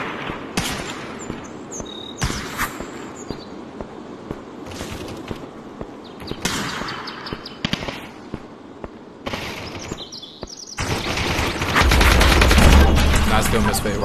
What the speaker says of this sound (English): Can you guys stop shooting at me?